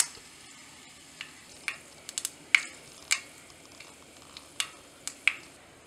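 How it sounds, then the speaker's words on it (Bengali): A bay leaf and panch phoron spices spit in hot oil after frying koi fish, making quiet sizzling with a scatter of sharp crackles and pops spread across the clip; no voices. "পাঁচফোড়ন দিয়ে দিলাম"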